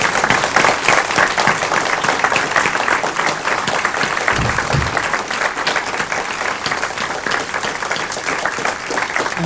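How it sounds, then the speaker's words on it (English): Loud, sustained audience applause for both candidates at a state senate district debate, dense clapping from a full room continuing without pause. "And now we can applaud both candidates."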